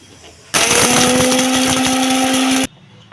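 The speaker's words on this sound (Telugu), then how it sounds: "ఇప్పుడు మిక్సీ పట్టుకోండి" A kitchen mixer grinder whirs loudly for about two seconds, grinding roasted, cooled ingredients for mango coconut chutney, then cuts off abruptly.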